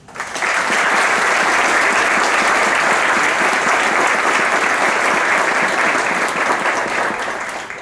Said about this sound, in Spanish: Les brindamos un estimado aplauso.